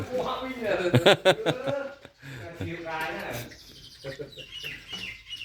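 Chickens cluck and call among fighting cocks at a Thai cockfighting venue, close and irregular, mixed with loud talk from men nearby.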